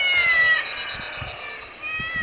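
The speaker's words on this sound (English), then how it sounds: "My cat Squeaker won't come down." A cat stuck up high and refusing to come down gives a few thin, high meows in an animated film scene, heard over a busy background of music and effects.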